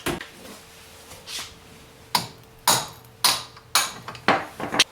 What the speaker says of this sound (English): with just a few taps, this axle came out with minimal resistance